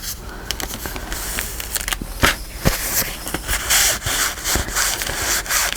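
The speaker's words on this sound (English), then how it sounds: "Wipe that extra glue off and rub it into the envelope." Fingers rubbing glue into a paper envelope, a close dry scratchy rubbing with irregular strokes and small taps throughout, no voices.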